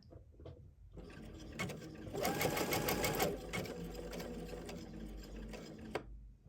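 A Baby Lock Chorus sewing machine stitches a one-step buttonhole, its fast mechanical whir running steadily for several seconds with brief pauses at the start and end, close and fairly quiet.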